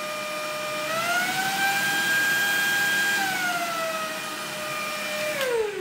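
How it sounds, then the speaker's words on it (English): A Lacidoll handheld cordless wet-dry vacuum cleaner runs loud and close with a steady motor whine that climbs in pitch, holds, then drops as the suction mode changes, ending with a click. "with a touch of your finger it can go to the second strongest suction power"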